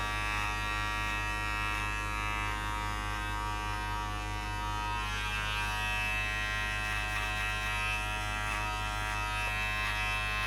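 Hair clippers with the lever fully open buzz continuously and close up while cutting a skin fade, a steady electric hum with no pauses.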